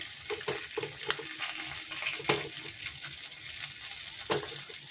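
Two bay leaves and whole dried chillies sizzle in hot ghee in a pan, a steady soft frying hiss with small crackles and pops, close by and without talk.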